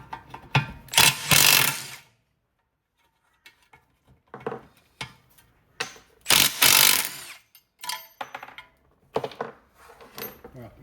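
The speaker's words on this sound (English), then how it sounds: "So we're just going to get our impact out and see if we can drive those off." An impact wrench drives off 17mm brake caliper bolts on a Hyundai Elantra, giving several loud, short buzzing bursts with pauses and quieter clanks between them.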